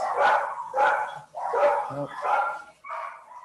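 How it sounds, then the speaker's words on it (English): Dogs bark excitedly at a door indoors, five loud barks spaced at a steady rhythm, with a brief higher yip in the middle. "there are dogs at the door. Our dogs are going ape shit."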